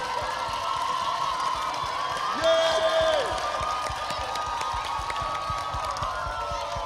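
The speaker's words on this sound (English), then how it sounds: "Please give them a round of applause." At an outdoor school carols evening, a crowd applauds and cheers for a group of bagpipers, a fairly soft, distant wash of clapping and shouts with a faint tonal drone and some talking underneath.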